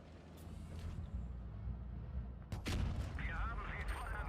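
Tank cannon fire in the online tank battle game World of Tanks Blitz during a tournament match: one sharp booming shot lands midway over rumbling engine and battle noise, with a commentator's voice present.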